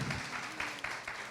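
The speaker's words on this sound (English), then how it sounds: "Give him a round of applause" Brief applause from church seniors at a mayor's meet-and-greet for a city council member, a faint, short patter of clapping.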